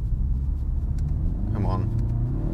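Turbocharged engine of a 2023 BMW 128ti hatchback accelerating, a steady low rumble with a rising whooshing induction swell as the turbo builds boost, heard from inside the car.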